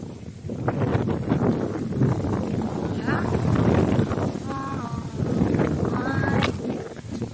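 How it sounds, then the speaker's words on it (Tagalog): Strong wind roars steadily into the microphone throughout, with people talking over the gusty rumble outdoors while harvesting lemons up a lemon tree. "Ang lakas ng hangin."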